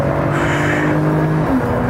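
A Porsche 991 Turbo accelerates hard on a racetrack, its engine note rising steadily under a loud, close, continuous roar with wind and tyre rush and no talking.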